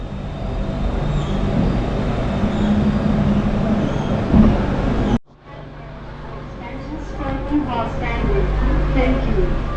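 Rumbling interior of a moving public-transport train in Bangkok with steady low noise, then an abrupt drop to a quieter cabin where people chatter nearby.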